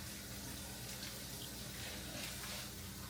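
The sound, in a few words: tap water running while washing vegetables (baby corn)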